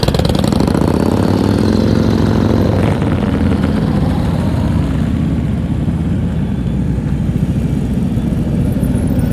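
Motorcycle engine during slow-speed riding practice, throttle blipped on a low continuous rumble with a brief rise near the start, steady and close throughout.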